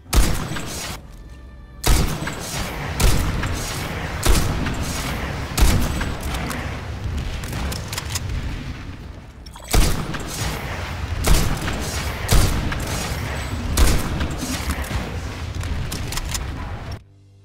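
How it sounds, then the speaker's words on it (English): In PlanetSide 2, the NSX Daimyo weapon fires in repeated loud, booming volleys, with sharp heavy shots coming roughly every second or so in two long sustained bursts and a short pause between them. "a similar case with the NSX Daimyo with a modified firing audio. A much better sound for this weapon right here."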